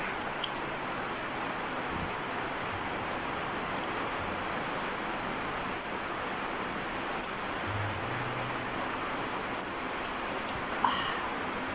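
Heavy, unbroken rain falls on a farm as a steady dense hiss that holds level throughout, with a brief knock near the end.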